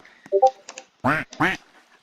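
Two loud, nasal duck honks in quick succession from a duck in the video game Duckhaven, preceded by a few short chirpy electronic blips, all clean with no talk.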